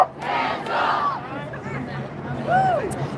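A crowd at a political rally shouts in unison after an energetic speech, with a lively babble of voices and rising call-outs swelling twice over the short stretch.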